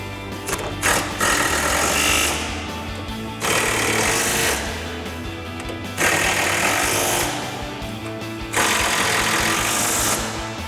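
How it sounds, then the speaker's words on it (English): Repeated bursts of a power tool, likely an impact wrench, driving a 13mm socket onto nuts on a 2005-2009 Mustang GT front strut assembly. Four loud, sustained buzzing runs are separated by short pauses. "Now we're going to tighten down our nuts with our 13mm socket."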